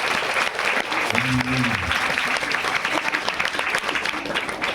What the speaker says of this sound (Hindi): जोरदार एक बार ताली बजाएंगे